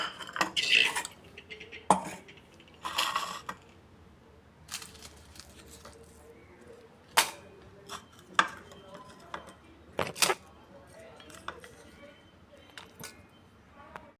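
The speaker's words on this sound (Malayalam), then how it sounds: "ഇനി ഇതെല്ലാം കൂടി ഒരു മിക്സിയുടെ ജാറിൽ ഇട്ട് കൊടുക്കാം." Several sharp clinks and clatters of chutney ingredients dropped into a mixer grinder jar, scattered irregularly over a quiet background.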